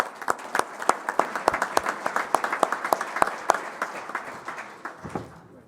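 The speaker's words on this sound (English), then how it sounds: "So let's give them a round of applause." A small group claps for the winning team at a Best Ranger competition program, with sparse, distinct individual claps in an uneven rhythm that taper off at the end.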